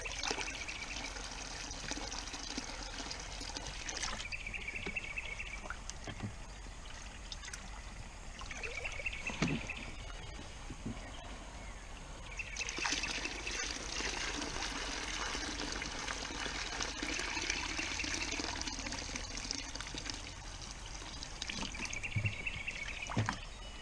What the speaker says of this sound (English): let's try to pour some of this water out.